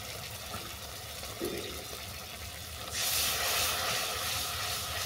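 Coconut milk poured into a pan of frying spices for a mushroom curry, a steady sizzling hiss that jumps into a louder, brighter crackle partway through as the liquid hits the hot oil.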